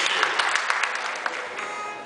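Applause from a crowd, with sharp individual claps at first, gradually thinning and fading toward the end.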